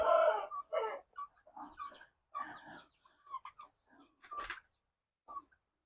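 Free-range country chickens and a turkey calling on a farm near Vellore: a string of close, uneven clucks and squawks in short bursts, with brief pauses and one sharper cry toward the end.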